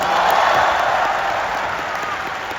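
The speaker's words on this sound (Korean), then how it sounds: "다시 한번 축하의 박수를 부탁드리겠습니다" A crowd claps in congratulation after a football relegation playoff, a dense burst of applause that stays loud and steady through the moment before tapering a little.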